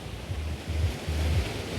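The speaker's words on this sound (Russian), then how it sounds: "И вот так шумит море вечернее." Large evening sea waves roll onto the beach below a promenade at Arpachbakhshish, a steady close rush of surf with gently swelling surges, heard alone without any voices.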